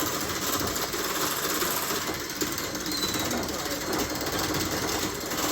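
An electric mixer running continuously and being turned up in speed, a dense whirring buzz that stays loud and close throughout.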